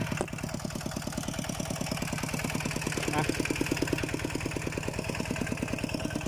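An engine-driven water pump drawing water from a rice field runs at a steady, fast-thumping idle throughout, with a voice talking over it.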